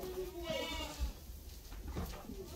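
A goat bleats briefly and fairly faintly amid a quiet farmyard, with a low voice murmuring in the background.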